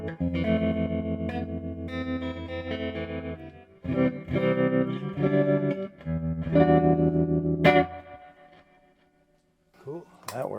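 A vintage 1960s Fender Jazzmaster electric guitar played clean through an amp with reverb: sustained chords and notes ringing out in phrases, decaying into reverberant tails, with a short pause before more notes near the end.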